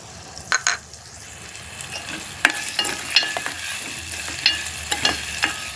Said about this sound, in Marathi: मिरची पण त्याच्याबरोबर भाजायची आहे मीडियम गॅस ठेवायची आहे